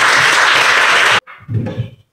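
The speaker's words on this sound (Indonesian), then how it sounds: "Mari kita tepuk tangan" A church gathering breaks into loud, dense applause that fills a little over a second, then stops abruptly, followed by a brief quieter burst of clapping and murmuring.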